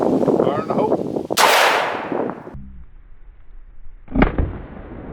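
A full-auto shotgun fires a non-lethal round at a TV, a single sharp loud blast followed by a fading decay, then a second impact-like crack a few seconds later, with background talk around it.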